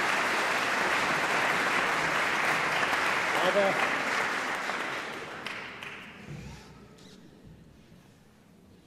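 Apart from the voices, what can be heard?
audience applause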